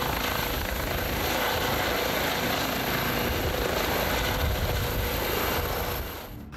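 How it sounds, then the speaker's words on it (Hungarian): An air ambulance rescue helicopter runs at a steady, close, loud whirring drone for several seconds, easing off slightly at the very end, with no voices. "Percek alatt a levegőbe tud emelkedni a helikopter."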